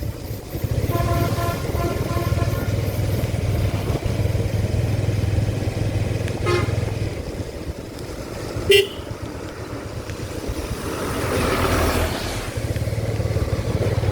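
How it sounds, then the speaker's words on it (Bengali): Motorcycle ridden slowly along a road at night near Nawabganj, Dhaka, a steady low engine drone with passing traffic and one short horn toot midway. "আমি খুব আস্তে আস্তে গাড়ি চালাই খুব আস্তে আস্তে বাইক ড্রাইভ করি"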